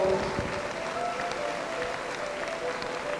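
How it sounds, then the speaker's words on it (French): A crowd at a skating opening ceremony applauds warmly for a regional league's skaters, with steady dense clapping throughout the short stretch. "Je pense que vous pouvez les applaudir bien chaleureusement."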